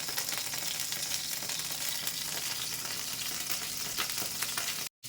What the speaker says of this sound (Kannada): ಇದೆಲ್ಲ ಸ್ವಲ್ಪ ಫ್ರೈ ಆದರೆ ಸಾಕು.